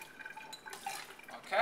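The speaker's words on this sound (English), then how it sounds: "And here's how I rinse with distilled water." Distilled water sloshing and dripping as glassware is swirled and rinsed in preparation for a titration, with soft splashes that grow louder toward the end.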